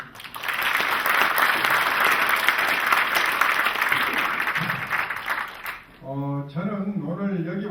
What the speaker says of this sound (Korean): 그런 의미에서 우리 모두 박수 한번 부탁드립니다.